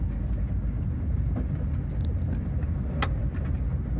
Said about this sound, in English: Ooh, back brakes are noisy.